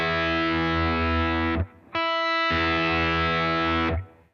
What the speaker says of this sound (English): now I'm going to play with the radical distortion with the high pass filter put back in